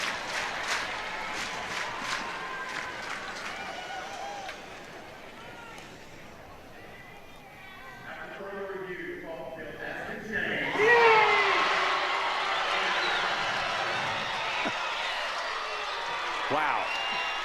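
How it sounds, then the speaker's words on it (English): Oregon softball fans in a college stadium react to an overturned review call, a broad crowd roar with cheering and applause swelling after a quieter stretch, staying loud and sustained with some voices mixed in. "I think there's a chance the reaction could be much different this time from the Oregon crowd"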